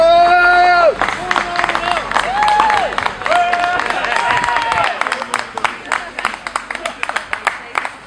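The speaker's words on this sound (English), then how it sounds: "round of applause there" Crowd voices and shouts give way to a round of applause outdoors at a gathering, loose clapping that thins into sparse individual claps toward the end.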